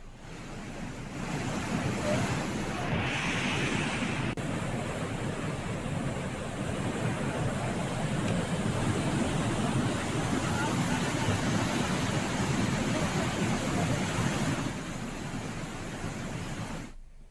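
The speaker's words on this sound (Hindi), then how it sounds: "जलस्तर बढ़ने से गंगा उफान में बह रही है" Swollen Ganga river in monsoon spate at Gangotri, a steady broadband roar of rushing floodwater that holds loud and constant throughout.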